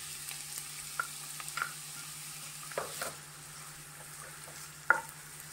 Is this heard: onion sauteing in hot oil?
yes